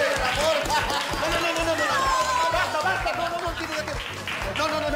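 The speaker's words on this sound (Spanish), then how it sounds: "¡Un aplauso para el amor!" Applause breaks out in a scene from a TV comedy, a brisk burst of clapping from a small group, with chatter and laughter mixed in close by.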